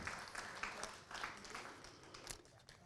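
An audience at a residents' association meeting applauds, a faint, uneven patter of clapping from a modest crowd that rises and dips over a few seconds.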